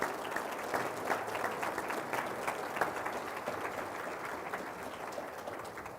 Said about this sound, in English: Let's give a big round of applause to George Teal.